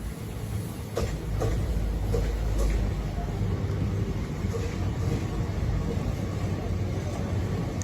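A passenger train at Krishna Canal Junction in India gives a steady, loud low rumble heard from on board, with faint clunks early on and the drone holding evenly as it moves off.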